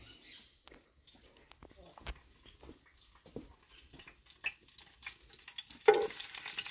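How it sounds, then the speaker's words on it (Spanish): Beef steak frying in a pan and being stirred with a small spoon, giving scattered clicks and scrapes over a quiet sizzle that grows louder toward the end, with speech in the background. "Voy a traer mi cucharita para mover el bistec."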